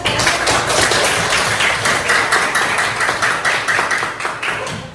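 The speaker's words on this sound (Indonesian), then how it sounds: "Kita kasih tepuk tangan." A crowd claps steadily and loudly for several seconds, a dense wash of hand claps with no talking.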